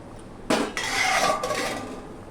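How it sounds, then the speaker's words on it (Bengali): Paneer being stirred gently in a pan, a metallic clank of a utensil against the pan followed by a brief scrape and a second softer knock, close and clear. "পনিরগুলো দিয়ে খুব আস্তে সাবধানে আমি নাড়াচাড়া করে দিলাম"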